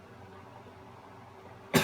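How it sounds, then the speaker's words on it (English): A single sharp cough bursts out close to the microphone near the end, following a stretch of quiet game background sound. "I'm feeling a little better, but I still have the cough."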